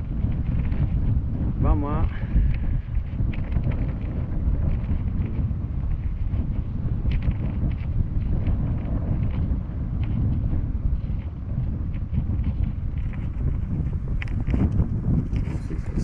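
Strong wind buffets a microphone outdoors, a steady rumbling roar filling the whole stretch, with a brief spoken phrase near the start.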